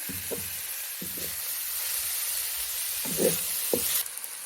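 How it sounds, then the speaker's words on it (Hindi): Onions cooking in a pan give a soft, steady sizzle and hiss throughout, with a few low clunks of stirring or handling, close by and with no talking. "प्याज हमने अच्छी तरह से मिक्स कर लिए हैं। अब हम इन्हें कुक करेंगे 5 मिनट के लिए।"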